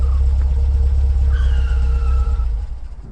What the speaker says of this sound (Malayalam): ഇപ്പോൾ നിങ്ങൾ ശ്രദ്ധിക്കുകയാണെങ്കിൽ എഞ്ചിൻ്റെ സൗണ്ട് നിങ്ങൾക്ക് കേൾക്കാം കേട്ടോ